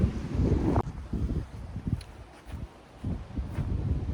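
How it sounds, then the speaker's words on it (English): Wind blows outdoors at a chicken coop build site, a steady low rumbling gust noise that buffets the microphone, loudest at the start and then easing into fluctuating softer gusts. "Boy, the wind's picking up."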